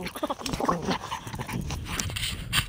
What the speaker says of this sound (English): Yeah, he's a good dog.